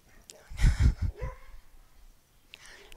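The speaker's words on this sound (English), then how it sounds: "any dogs that you just really wish would not be barking" Dogs bark in a short close cluster of several yaps indoors during a quiet yoga session, then fade to soft breathing-like background.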